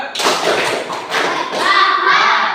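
A group of pupils claps the tepuk semangat chant in a classroom, the claps thick and continuous with thudding accents while children's voices chime in over the rhythm.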